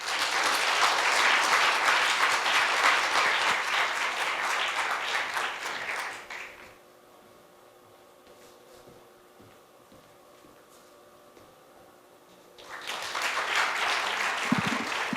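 An audience claps in welcome for Kim Moo-hwan, president of POSTECH, at a Korea University lecture event in 2019. Steady dense applause fills a hall, drops into near silence for several seconds, then swells again into loud clapping.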